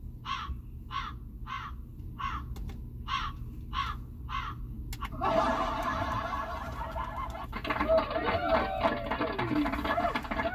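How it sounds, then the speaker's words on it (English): A crow caws in a steady series of harsh calls from a sound effect, then a burst of louder squawking and clucking birds takes over, with faint background noise throughout. "I have a bird sound."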